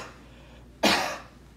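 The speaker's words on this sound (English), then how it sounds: "We can capture cough sounds. Is it a dry cough? Is it a wet cough?" A single sharp cough bursts out, close and loud, then fades quickly into quiet.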